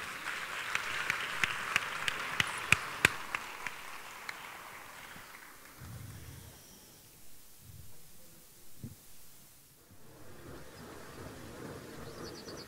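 Audience applause at a flamenco gala, a short burst of scattered clapping that fades after a few seconds into quiet room rustle and murmuring.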